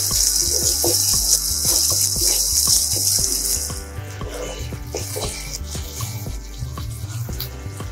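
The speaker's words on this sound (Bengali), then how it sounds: "লঙ্কাও দিয়েছি, পেঁয়াজ দিয়ে একটু ভালো করে ভেজে নেব" Onions and green chilies frying in a pan for an egg and potato dish, a steady hissing sizzle throughout with a brighter, louder spray of sizzle in the first half and scattered clinks and knocks of stirring.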